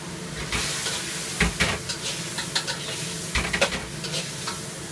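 Chicken pieces hitting a hot stir-fry wok for spicy diced chicken, loud close sizzling with repeated scraping stirs and spatula clatters in an uneven rhythm.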